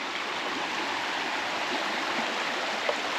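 McMichaels Creek in the Poconos flows steadily along a hiking trail, a continuous broadband rush of water that stays even and fairly close throughout, with no voices.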